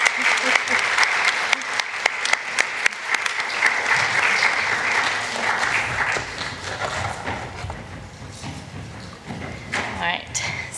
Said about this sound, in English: So a round of applause for Steph.